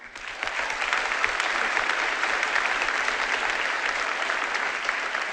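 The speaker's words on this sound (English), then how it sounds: "give a huge round of applause to our new headmaster, Mr. Smith, who has had an outstanding year." A crowd at a high school graduation claps steadily and fairly loudly for several seconds, a dense even wash of applause with no voices on top.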